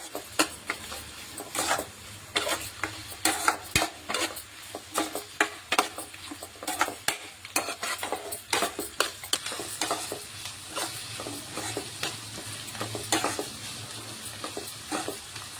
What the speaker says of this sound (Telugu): కరివేపాకు వేయాలి గోల్డెన్ కలర్ వచ్చే వరకు ఫ్రై చేయాలి